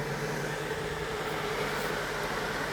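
An electric kettle and a microwave hum and hiss steadily nearby, a constant whirring drone with broadband noise, no voices.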